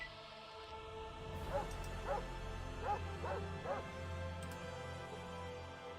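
Dog barking in the video game Fallout: Nevada, a series of about five sharp yips spaced roughly half a second apart over a steady game backdrop of low hum and music.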